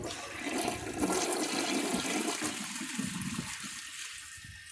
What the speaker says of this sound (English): I'll just stick this in right now and give it a flush.